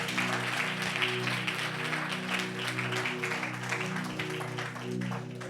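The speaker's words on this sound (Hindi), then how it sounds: "जोर से आप ताली बजा सकते हैं" Church congregation at a Sunday service clapping, a lively patter of many hands over a sustained musical drone, moderately loud and continuous throughout.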